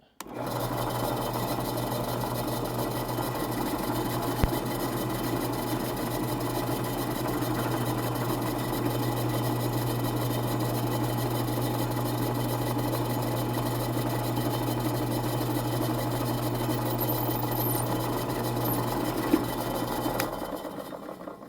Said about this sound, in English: One hole drilled in the center of my bushing.